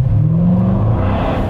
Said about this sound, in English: We're going through the tunnel in a Corvette